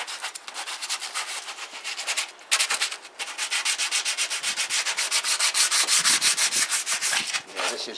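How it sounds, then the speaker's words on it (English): Light hand sanding with sandpaper to strip old grease from a surface: close, rhythmic back-and-forth rasping strokes, brief pauses, then a faster steady run of scrubbing, with no talking. "Just a light sandpaper and degreaser, and we'll get all the crap off it"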